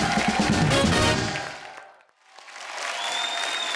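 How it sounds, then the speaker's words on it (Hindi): A studio audience on a comedy talk show applauds cricket players, loud sustained clapping that fades to near silence, then swells back up. "एक बार हमारे सब प्लेयर्स के लिए जोरदार तालियां।"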